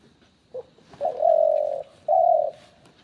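A dove held in the hand coos close by: a short soft note, then two longer, steady, hollow coos with a brief pause between, over quiet background.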